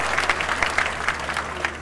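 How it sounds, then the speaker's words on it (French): Applause at a civil wedding ceremony: a room full of guests clapping steadily and fairly close for a couple of seconds, with no voices over it. "Applaudissez pour monsieur Ella Simplice."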